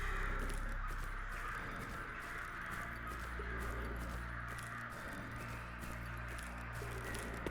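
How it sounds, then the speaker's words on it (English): Crows cawing from the Murder of Crows sound mod in the S.T.A.L.K.E.R. Anomaly video game, faint repeated caws under a dense hissing, rumbling outdoor game ambience with no talk. "The crow sound mod is called Murder of Crows."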